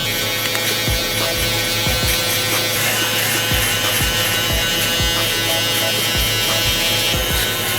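An electric shaver buzzes continuously up close during a fade haircut, with a steady high whine and repeated soft taps as it meets the skin.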